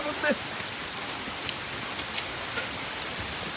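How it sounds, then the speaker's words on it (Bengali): Steady rain falls close by, an even hiss with a few scattered heavier drops throughout. "বৃষ্টি বৃষ্টি"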